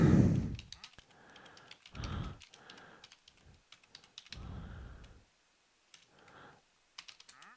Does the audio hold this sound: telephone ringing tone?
no